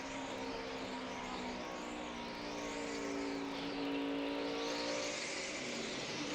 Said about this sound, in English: That's wheel spin.